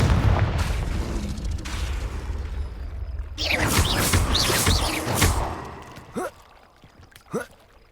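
A Confringo fire spell explodes in the Hogwarts Legacy video game: a loud booming burst that rumbles and crackles for a few seconds, then fades, followed by a couple of sharper pops, with no speech.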